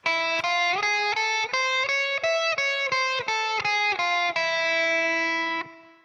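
An electric guitar with a slightly overdriven tone plays the augmented scale, picking a quick run of sustained, evenly spaced single notes that climb in steps and end on a long held note, close and without talk.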